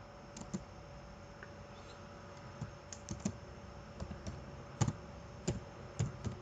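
Typing on a computer keyboard: quiet, irregular clusters of key clicks, some bursts sharper than others, with no talk.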